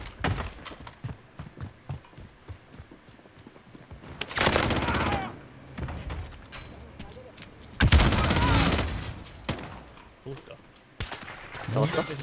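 Gunfire in the Call of Duty Warzone video game: scattered single shots and two loud sustained automatic bursts at mid-distance, over faint in-game ambience and occasional voices.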